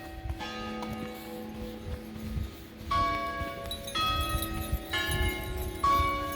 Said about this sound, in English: Westminster chimes, 11:30.